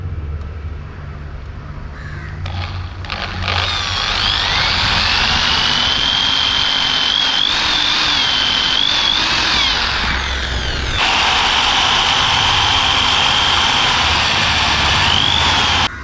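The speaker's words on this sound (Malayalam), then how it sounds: "നമ്മൾ ഡ്രില്ല് ചെയ്യാൻ പോവുകയാണ്." Power drill boring a hole to mount a Bajaj Discover 125 T visor onto an NS 200 motorcycle: a loud, continuous high whine that wavers in pitch, running unbroken with no talking.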